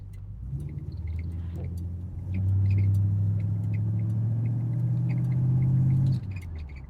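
An old Buick's engine rumbles low while the car is driven, rising into a louder, steadier drone for a few seconds before easing back down.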